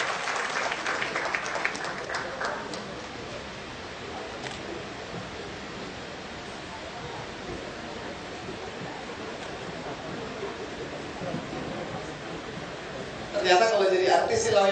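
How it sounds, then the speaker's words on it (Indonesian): An audience at the Malam Menjadi Indonesia evening event applauds sponsor Indika Energy. Full clapping at the start fades into a long, soft, noisy room hush, and a voice comes in near the end. "Tepuk tangan buat Indika Energy."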